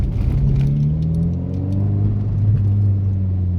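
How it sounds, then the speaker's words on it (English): A loud Toyota Yaris 1.5 engine rumbles deep and steady, close by, with a slight rise and fall in pitch and no talk. "Everyone's looking at me because this car's so flipping loud."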